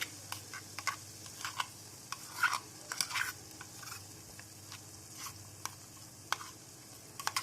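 Arbi masala curry being stirred in a pan after yogurt and a ground peanut-coconut paste go in, with scattered scrapes and soft clicks of the spoon over a low steady background, no voices.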